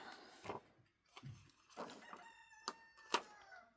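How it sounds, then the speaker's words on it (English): A rooster crows twice near the end, loud and close, after scattered clucking and rustling. "Yes, Rooster, we hear you."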